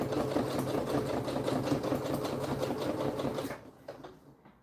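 Sewing machine stitching a poncho, a loud continuous rapid mechanical chatter that runs steadily for a few seconds and then winds down and stops.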